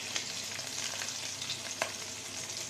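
Shrimp coated in turmeric and salt sizzle steadily in hot oil with slit green chillies. The frying hiss is continuous and fairly quiet, with a few brief crackles and spatters.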